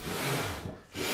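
A hand saw resawing a board along its length, rough rasping strokes back and forth, loud and close, with a short pause between pushes before the next stroke resumes.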